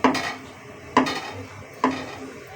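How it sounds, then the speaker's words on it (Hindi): A spoon scraping through semolina and milk for suji halwa, three distinct clinking strokes against the pot spaced about a second apart, close and clear with no voices. "बस चम्मच आपने मसलसल चलाते जाना है ताकि सूजी हमारी नीचे ना लगे।"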